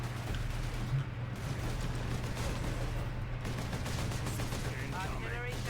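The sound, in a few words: gunfire in Warhammer 40k Space Marine video game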